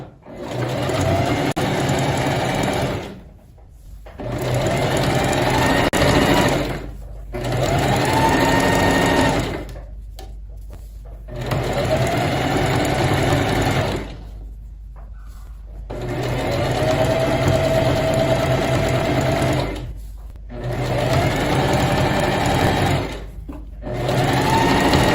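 Domestic sewing machine with a twin needle stitching a folded hem on sweatpants fabric, a loud, close, steady mechanical whir in several long bursts separated by short pauses.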